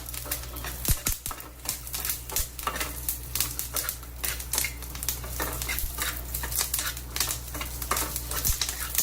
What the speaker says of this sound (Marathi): आणि आपण ज्या हिरव्या मिरच्या घेतल्या होत्या त्या घालून घेऊया. मिरच्या थोड्या 2 मिनिटे भाजायच्या